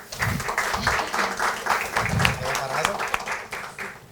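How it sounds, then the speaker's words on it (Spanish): Audience applause at a corporate investment presentation, a steady wash of many hands clapping with voices talking over it throughout. "Así que les hacemos un aplauso"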